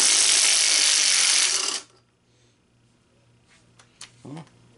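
A ratcheting wrench clicks loudly and rapidly while undoing a nut on a Volkswagen Rabbit cylinder head, then stops abruptly, leaving quiet workshop background and a few faint knocks and a brief voice at the end.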